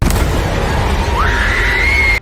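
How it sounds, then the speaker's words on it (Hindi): Girl screaming loudly in a horror film, a sustained shrill cry that jumps higher partway through and holds to the end over a loud, dense background rumble. "अब लड़की जोर से चीखती है।"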